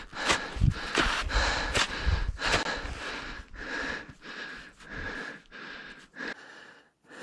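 Heavy, rhythmic panting while hiking uphill in the Pyrenees, close and labored, with breaths coming in a steady repeating pattern and faint footfalls underneath.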